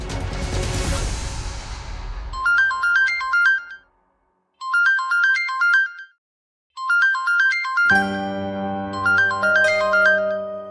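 A phone ringtone plays in repeated melodic bursts with short pauses between, following a noisy rumble at the start and giving way to sustained music near the end.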